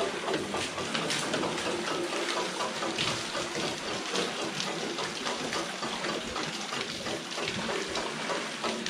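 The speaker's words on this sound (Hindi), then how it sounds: "और ऊपर गिरता है पानी।" Water pours and splashes steadily from a traditional rahat Persian wheel, a continuous gushing wash at close range with no pause.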